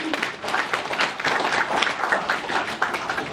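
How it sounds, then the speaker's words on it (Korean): An audience in a meeting hall at a Korean genealogy report gathering claps together in a dense round of applause, moderately loud with slight surges and no voices over it. "우리 실무자를 위해서 박수 한번 보내주시면 감사하겠습니다."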